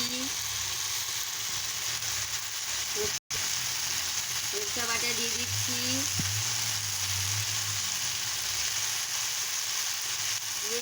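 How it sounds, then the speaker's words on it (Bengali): Spinach chorchori vegetables sautéing in a pan with green chilli and coriander leaves, a steady soft sizzle running throughout with faint stirring, briefly cut out for a moment, with a little background voice. "আনাজগুলোকে কষিয়ে নিচ্ছি"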